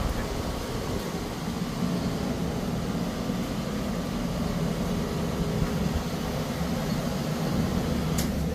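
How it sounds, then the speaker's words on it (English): An air conditioning unit runs with its fan going, giving a steady broadband whoosh and hum that continues without change throughout, with no talking. "Turn the unit off, because that fan might be blowing it off."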